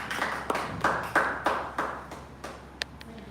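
Scattered handclaps from a small audience welcoming a business-development head at an app launch event, about eight sharp separate claps that thin out and fade, fairly faint with no talk.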